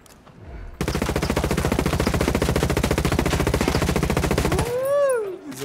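Sustained automatic gunfire in the video game Narco Road, a rapid, dense burst of shots lasting about four seconds at full loudness, then cutting off into a short whooshing sweep.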